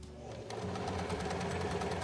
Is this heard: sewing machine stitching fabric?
yes